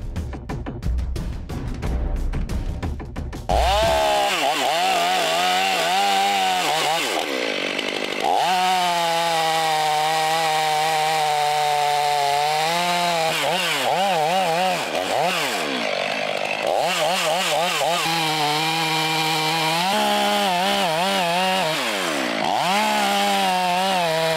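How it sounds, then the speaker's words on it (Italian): A loud chainsaw revs and bites into a tree trunk up close, its engine pitch rising and falling as it cuts steadily for a long stretch, in Vidor, Treviso. "alla resistenza che mi fa la motosega ad entrare e alla segatura che viene fuori"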